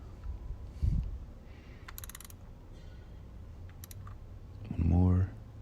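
A ratchet with a 17mm socket tightens the oil drain plug on a BMW E30 oil pan, giving two brief bursts of close, quiet clicking amid low background noise and a short low hum near the end.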